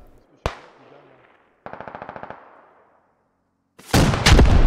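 A rocket launcher is fired in the SquadOps shooter game: a sharp crack, then a rapid burst of about a dozen clipped gunshots, a silent pause and a loud, rough blast at the end.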